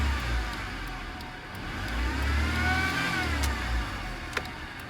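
A Honda Civic engine revs up and settles, a steady near drone with rising and falling pitch across a few seconds, heard alone without talk.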